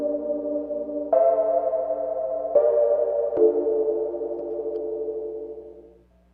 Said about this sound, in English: it must have like a spring reverb type effect